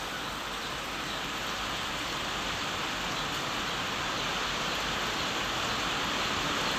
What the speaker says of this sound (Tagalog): Ngayon lang po bumuhos ang ulan.